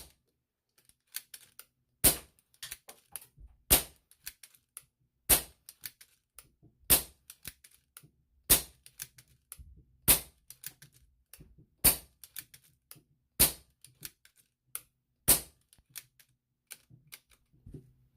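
A Numerex Notos air pistol fed from a 3D-printed magazine fires ten sharp, evenly spaced shots at a steady pace, each crisp pop followed by faint mechanical clicks in an otherwise quiet room.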